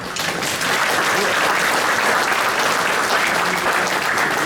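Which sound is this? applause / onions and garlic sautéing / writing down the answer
applause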